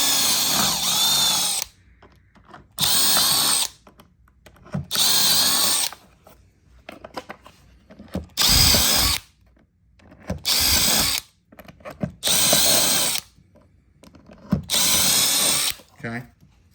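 Power drill boring holes in metal with a 5/32 bit while fitting a quick release handle mod to a Milwaukee PACKOUT rolling box: seven loud bursts of a few seconds each, separated by short pauses, close by.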